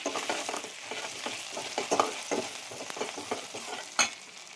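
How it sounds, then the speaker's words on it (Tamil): Masala ingredients for chicken kurma sauté in a pan: a rhythmic series of spatula scrapes and stirs over a soft sizzle, close and clear, with a sharper clack near the end and no talking. "எடுத்து வச்சுருக்கிற மசாலா ஐட்டம்லாம் சேர்த்து வதக்கிக்கோங்க"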